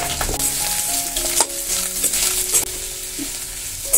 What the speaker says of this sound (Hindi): प्याज और हरी मिर्च को थोड़ी देर तक चला लूंगी।